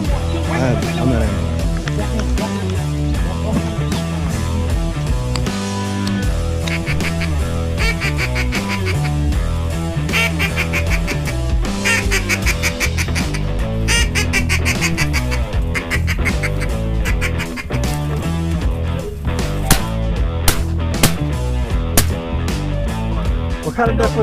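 Ducks quack and call during an opening-weekend duck hunt in Texas, a dense busy chorus layered throughout with a continuous bed of other sound and people talking.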